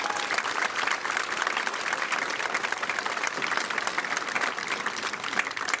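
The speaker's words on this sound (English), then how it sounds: "Let's have a round of applause for everyone that helped the class of 2023." Sustained applause from a large crowd at a class of 2023 commencement, a steady wash of clapping that holds at an even level throughout.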